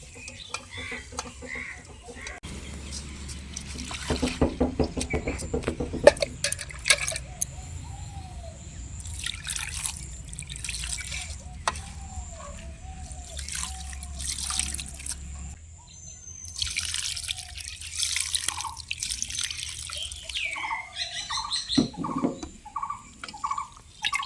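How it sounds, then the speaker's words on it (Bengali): Hands rub and swish flattened rice (poha) in water, producing splashing, dripping and squelching sounds at close range, while chickens cluck in the background. "জল দিয়ে এইভাবে হাত দিয়ে একটু কষলে ধুয়ে নেব"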